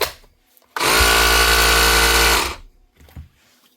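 A repaired Makita 36V BHR262 battery hammer drill runs in one loud, steady buzzing burst of under two seconds, then stops with faint handling noises.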